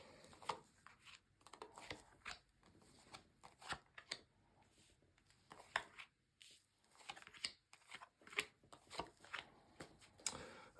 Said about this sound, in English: So let's just lay down your 10 cards on the table